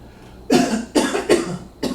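A person coughs four times in harsh, close bursts with short pauses between them, a cough the person attributes to the antipsychotic injection Invega Sustenna.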